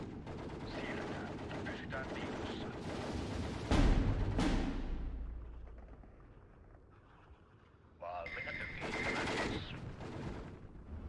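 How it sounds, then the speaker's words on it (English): Bursts of machine gun and other gunfire from the World War II strategy game Steel Division 2, with repeated rattling volleys, loud impacts and mechanical noise rising and falling over about eleven seconds; no talking. "we can just keep them back with this line of machine guns"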